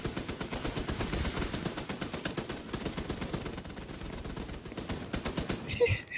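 Rapid turret gunfire in The Division 2 video game, a dense stream of sharp automatic shots rattling continuously at close range, with a louder burst near the end.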